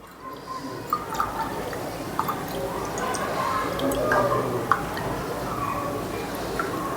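About 50 ml of water is poured into a beaker for a class science demonstration, a steady trickling fill that rises gradually and stays moderately loud throughout.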